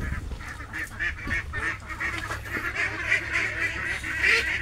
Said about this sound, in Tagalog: Ito na ang ating alaga na sisiw ng itik.